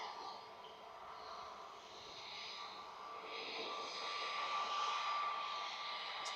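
A Lufthansa airliner on final approach to land at Manchester Airport, a soft distant jet roar that swells gradually as it nears, heard from outdoors without talk.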